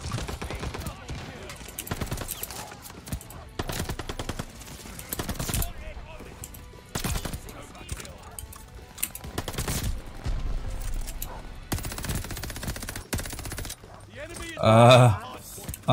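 Gunfire from a Cooper carbine in a first-person shooter video game, sounding as repeated short bursts of shots spread across the whole stretch, with a brief louder sound near the end.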